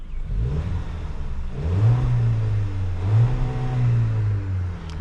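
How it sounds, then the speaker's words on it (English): A 2025 VW Taos four-cylinder engine revs up twice, the pitch climbing and holding before easing off, fairly loud with no voices. "if you want to rev it up a little bit, see what this engine has to offer"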